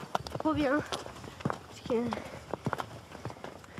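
Donkeys on a countryside path give irregular hoof clops and scuffs under close outdoor conversation, with voices talking over much of the walk.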